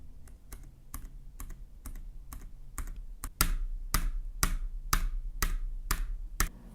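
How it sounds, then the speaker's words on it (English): Close, crisp clacks of a Keychron K3 Max mechanical keyboard being tapped at a steady pace, each keystroke distinct, growing louder and deeper partway through. "even the slightest tap on this spacebar is quite loud"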